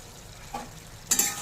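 Ground cumin, Kashmiri chilli, coriander and turmeric stirred into a vegetarian soyabean curry in a pan, a soft low sizzle followed by a brief brighter scrape of the spoon near the end.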